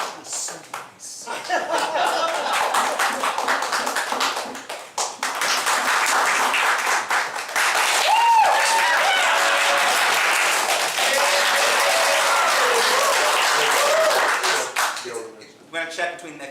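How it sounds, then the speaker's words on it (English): Audience clapping at a live game show, bursts of many hands applauding to vote for a favorite game, rising and falling in waves with short pauses, mixed with a host talking and scattered laughter from the crowd. "Clap for your favorite."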